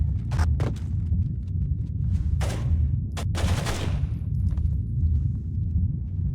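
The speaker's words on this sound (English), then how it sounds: "What's shooting at me?" Gunfire in the stealth game Splinter Cell: a few sharp shots, then a longer crackling burst of automatic fire over a low, rumbling background.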